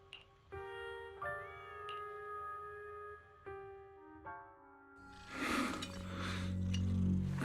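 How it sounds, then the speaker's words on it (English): A cat in the video game Zenless Zone Zero gives several clear, drawn-out meows in a row, close and distinct, followed by a burst of brighter clinking and rustling noise at the end. "Oh, there's a cat over there."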